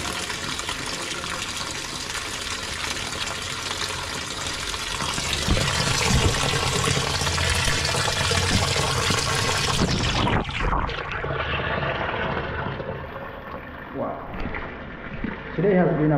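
Water rushes and churns steadily in a washing machine in a studio under renovation, loud and continuous for several seconds before tapering to quieter sloshing and gurgles near the end.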